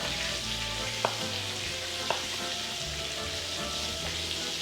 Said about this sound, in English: I'm just gonna put in a good heaping tablespoon of garlic, like so.